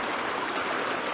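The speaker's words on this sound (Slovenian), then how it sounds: "zdajle ga bom prečkal, tale Beli potok" The Beli potok mountain creek rushes and gurgles in a steady, close, full-bodied flow of water, with no other sounds.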